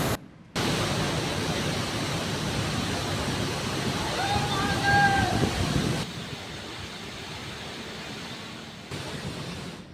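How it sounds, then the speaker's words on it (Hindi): Kedareshwar Mahadev waterfall in full flood after heavy rain, a loud steady roar of rushing water that fills the first six seconds, then continues slightly softer to the end. "केदारेश्वर महादेव का झरना दूसरी बार पूरे उफान पर नजर आ रहा है।"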